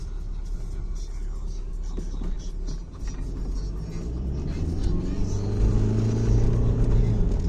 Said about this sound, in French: Déjà, elle roule bien. Mais elle accélère légèrement.